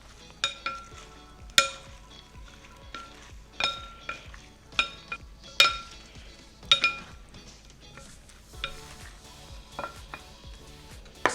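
Thai chili cucumber salad tossed by hand in a bowl, giving a string of wet slaps, clinks and sharp clattering hits at an irregular rhythm, close and fairly loud, with quiet gaps between and no talking.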